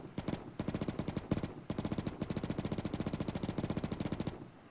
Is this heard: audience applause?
no